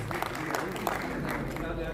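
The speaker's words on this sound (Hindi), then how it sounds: "जोरदार तालियों से इस्तकबाल कीजिए" Audience applause welcoming a poet at an Urdu mushaira held for an Independence Day celebration, a steady wash of clapping running under a voice speaking over it.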